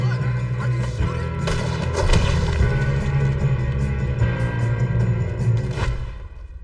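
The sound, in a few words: gunfire in the video game Red Dead Redemption 2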